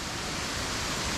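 Waterfall in the El Salvador countryside, a steady broadband rushing roar of falling water filling the short stretch evenly, with no voices over it.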